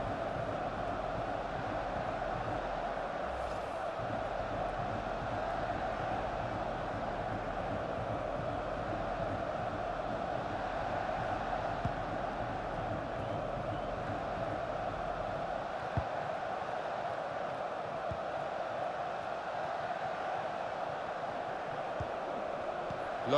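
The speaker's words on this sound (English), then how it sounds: "the crowd were up on their feet there" Football stadium crowd at a Sounders vs Whitecaps match, a steady broad roar of many voices sustained throughout, rising briefly early on, with a low rumble that drops away near the end.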